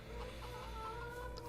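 Chickens cluck softly in Farming Simulator 22, a faint, low farmyard murmur of fowl sounds over a steady background hum.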